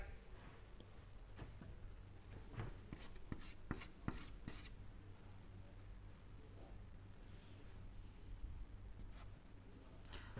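A pen scratches across a surface during an engineering lecture on vorticity, bursts of quick scribbling strokes with short pauses, faint against low room hum.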